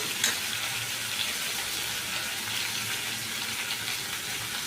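Chilli powder, turmeric, salt and masala fry in a pan with tomato paste for gobi aloo masala, giving a steady close sizzle with occasional stirring and no talk.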